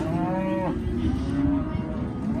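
Cows mooing at Lucky Bay Farm, Shepwalk Downs, Western Australia: a long harmonic moo fades out around mid-clip while low lowing and outdoor noise continue underneath, with no one talking.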